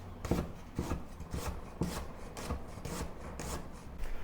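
A knife slices vegetables into thin matchstick strips on a cutting board, giving about nine regular, evenly spaced chopping strokes with a scraping edge, close up, with no voices.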